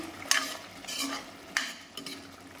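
Vegetable biryani being gently stirred in a pot with a utensil: a few distinct scraping clatters spaced about half a second apart over soft background noise, close and fairly quiet, with no talking.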